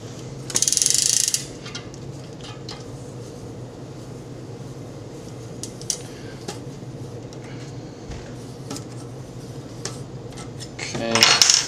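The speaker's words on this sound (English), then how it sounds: "use the two 25mm or 5mm Allen wrenches and remove the" Metal tools clink and ratchet while a cassette is removed from a Williams System 30 rear bicycle wheel with two Allen wrenches, with a loud buzzing whir near the start and a clattering burst at the end over a steady low hum.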